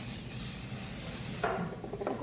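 Hairspray hisses onto an updo in a soft aerosol spray, followed by light rubbing and handling of the hair close by, with no voices.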